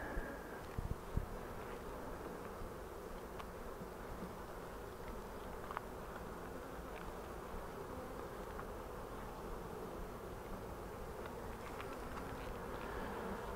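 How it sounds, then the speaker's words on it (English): Honey bees fly around an open hive during queen rearing, their dense steady buzzing hum filling the scene close to the microphone, with a few brief knocks near the start and no talking. "Bees flying up and showing a little bit more aggression like that"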